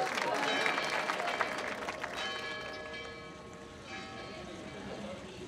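Audience applause at a tribute event, loud at first and then thinning out and fading over about five seconds, while ringing bell-like tones linger underneath.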